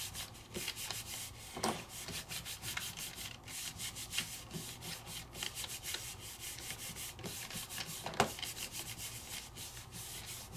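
Paper rubbed by hand over an inked stamp for a pigment-ink print, a steady dry scraping and rubbing that runs continuously at close range with brief louder strokes, no voices.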